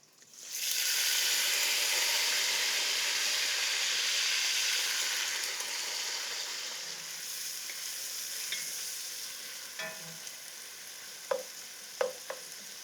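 Leeks stewing in rendered bacon fat in a pot for rice and pea soup, a loud steady sizzle that gradually eases, with a few soft stirring clicks and taps near the end.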